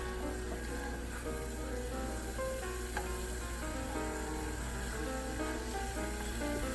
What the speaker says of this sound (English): We want to let the alcohol cook off, so just going to simmer that for 30 seconds